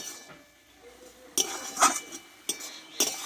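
Jute leaf greens (pat shak) are stirred in a pan with sharp metal clinks and scrapes of a spatula, four distinct bursts after a quiet start, close by.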